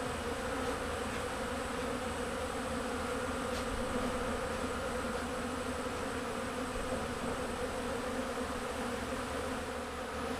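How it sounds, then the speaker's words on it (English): A dense, continuous buzz of many bees swarming close by around extracted honey, steady and unbroken throughout, with no voices. "Look at the bees. They are everywhere, folks."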